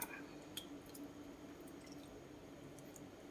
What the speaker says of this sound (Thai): เทน้ำด่างลงไปค่ะ